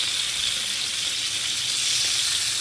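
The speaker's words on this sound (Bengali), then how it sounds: "আমি এখানে মাছটা একটু বেশি করে ভেজে নেব" Rupchanda fish fries in oil with a loud, dense, continuous sizzle close at hand.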